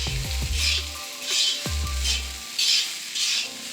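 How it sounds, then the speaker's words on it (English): Salmon fried rice sizzling and being stirred in a pan, with a steady frying hiss and repeated scraping strokes of a utensil against the pan at a close, moderate level. "Right now, we're just kind of frying that rice up a little bit."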